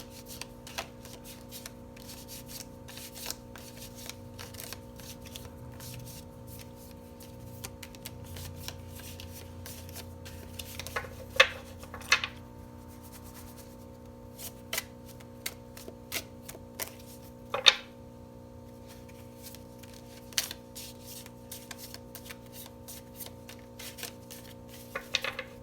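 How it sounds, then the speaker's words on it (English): Playing cards being shuffled by hand, quiet riffles and soft rubbing with a few sharper snaps and taps scattered through a calm, close-up stretch with no talking. "Gosh, I just feel like these need more shuffling."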